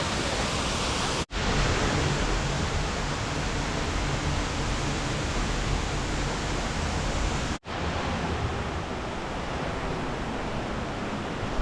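A waterfall roaring as a steady, dense broadband rush, close and loud, unbroken apart from two brief cuts.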